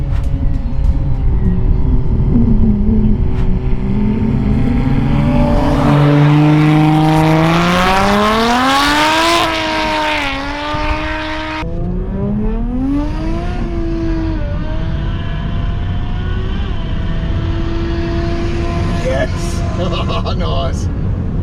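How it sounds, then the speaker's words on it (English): Cars accelerating hard in a roll race, including a VL, engines revving up through rising gear pulls with a loud roar, a brief gear-change dip, then climbing again. "we're going to have to go the roll race due to Steve and the VL getting no traction"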